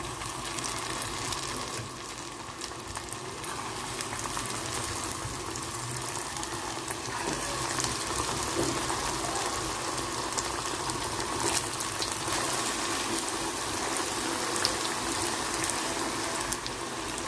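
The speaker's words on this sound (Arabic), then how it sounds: "الزيت بتاعنا سخن، هنبدا ننزل بالقطايف" Qatayef pastries fry in hot oil, giving off a continuous, dense sizzle and bubbling hiss at steady loudness, close by and without speech.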